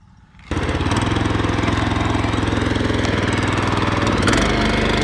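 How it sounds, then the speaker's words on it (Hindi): A farm machine with a soil-cutting attachment starts up and runs in first gear, a loud rumbling engine with a steady rapid chugging pulse, close by and without talk. "पहले गेयर में देखिए मिट्टी को काट रही है और आगे चल रही है"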